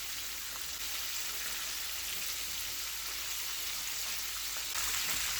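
Chicken wings frying in hot oil for crispy wings, a steady, even sizzle with a soft crackle that holds level throughout and swells slightly near the end, with no voices.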